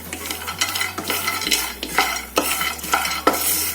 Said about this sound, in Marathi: ते पण मी थोडेसे परत एकदा पॅनमध्ये ते फिरवून घेते